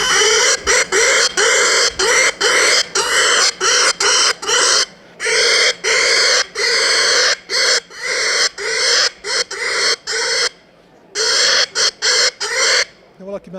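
A handmade game-calling whistle imitates a piglet's squeal for calling wild boar, giving repeated sharp, shrill bursts in quick clusters separated by short pauses, loud and close.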